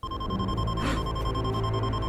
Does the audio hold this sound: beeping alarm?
yes